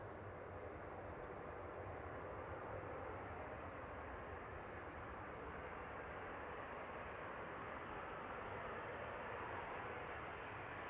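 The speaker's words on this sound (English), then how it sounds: "So again, Embraer 190 arriving from Berlin, 9 years old, first flight December" An Embraer 190 jet, nine years old, arriving at Amsterdam Schiphol from Berlin, produces a faint, distant, steady engine rumble that holds without much change for the whole stretch.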